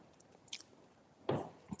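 A crunchy pie baked in the oven for half an hour is bitten up close, with a few sharp crunching bites spaced apart amid quiet chewing.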